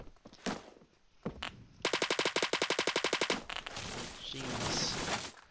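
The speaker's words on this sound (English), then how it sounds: "Already hear shooting." Gunfire in the online shooter Phantom Forces: a few scattered shots, then a rapid sustained burst of automatic fire with evenly spaced cracks, followed by fainter distant shooting and ambient battle noise.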